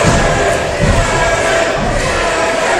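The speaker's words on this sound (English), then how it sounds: "Crowd is definitely chanting for Izzy" At a wrestling event, an arena crowd roars and chants steadily in a loud, continuous wash of voices with a few thuds underneath.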